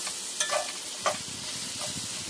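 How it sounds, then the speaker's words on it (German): Bacon and onions sizzling in a frying pan on a camper-van stove, a steady broad hiss broken by a few brief louder spits and stirring scrapes, close and alone with no talk. "Und jetzt mit dem Bacon und mit den Zwiebeln auch nochmal so 2 Minuten schön in der Pfanne brutzeln lassen."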